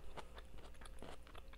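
Close, quiet crunching bites and chewing of slow cooker chicken fajitas with peppers and tender meat, a series of soft, irregular crunches with no talking.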